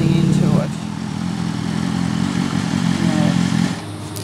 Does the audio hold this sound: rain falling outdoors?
no